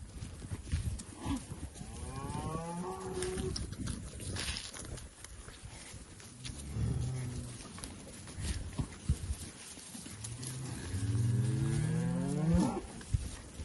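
Cattle low repeatedly in a farm setting around a cow with a newborn heifer calf, several drawn-out moos at moderate distance with hoof shuffling and rustling between them.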